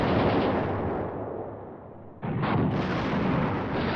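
Infantry and an anti-tank gun position in a forest open fire on a mechanized unit in the Command Ops war game, a dense continuous roar of gunfire that eases briefly midway, then surges back loud.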